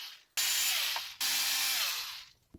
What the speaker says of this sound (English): these are the chassis brace to shock tower screws we're popping off